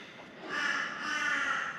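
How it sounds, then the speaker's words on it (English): A crow caws outdoors, a harsh, fairly loud call in two drawn-out bursts standing alone with no talk. "He will not go away, so we're just gonna have to deal with the crow."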